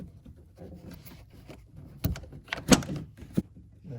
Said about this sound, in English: Got the whole door panel off.